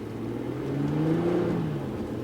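An Infiniti G35x engine hums steadily under acceleration, a low, even growl that rises slightly in pitch and stays moderate and close throughout.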